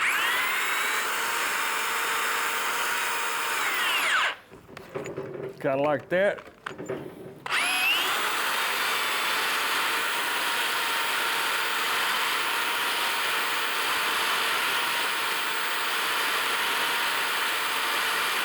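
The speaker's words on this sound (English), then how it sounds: "And I'm taking a drill." A power drill spins steadily while lapping engine valves with valve grinding compound, a loud continuous whine that stops briefly partway through as a voice speaks, then resumes.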